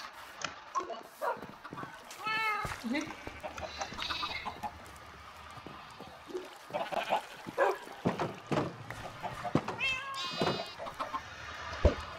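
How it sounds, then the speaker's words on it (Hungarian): A Minecraft chicken clucks in short bursts between scattered voices and other game noises, with animal calls popping up across the stretch at moderate volume. "Na, ez az ostoba csirke."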